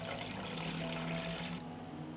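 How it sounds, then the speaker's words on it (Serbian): Cold water pours steadily into a cooking pot lined with a cloth and holding glass jars, a continuous splashing rush that cuts off near the end, leaving a quiet hum. "Sipat ću hladnu vodu u šerpu do visine poklopca."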